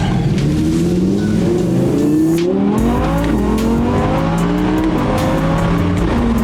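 Audi R8 V10 Performance accelerating hard, its rear-mounted V10 revving up loud and close through rising gears, with tire noise underneath throughout.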